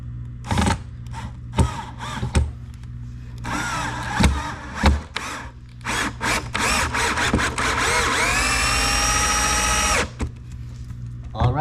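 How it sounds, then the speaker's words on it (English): A Bosch 12-volt cordless drill whirs in repeated short bursts, then runs in a longer sustained spin as it drives a roughly 4-inch screw, rising in pitch near the end. "We'll see if this little 12-volt drill can do the job."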